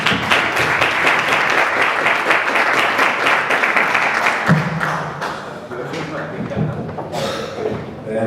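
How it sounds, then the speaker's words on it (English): Sustained audience applause at a bootcamp graduation in Barcelona, a dense steady wash of many hands clapping that fades slightly toward the end, with voices mixed in. "big round of applause for each of the students"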